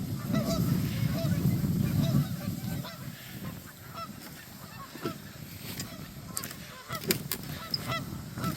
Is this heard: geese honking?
yes